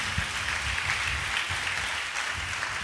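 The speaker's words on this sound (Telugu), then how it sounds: "మరి గట్టిగా చప్పట్లు కొట్టండి" A church congregation at a Good Friday service claps loudly and steadily together, a dense, sustained wash of hand claps with no speech over it.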